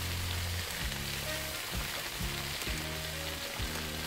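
Pork cutlets sizzle and fry in a hot pan, a steady close crackling hiss that runs unbroken throughout with no talk over it.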